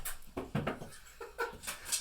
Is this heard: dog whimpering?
yes